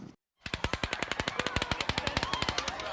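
Sustained automatic gunfire during the Las Vegas shooting at Mandalay Bay: after a brief silence comes a rapid, evenly spaced barrage of roughly twenty-five sharp shots, echoing as if from a distance.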